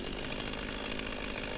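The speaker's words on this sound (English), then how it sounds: "we're just going to go ahead and quarter these logs with the chainsaw" A chainsaw cuts through logs to split them into quarters, its engine buzzing loudly and steadily at high revs close by, with no voices.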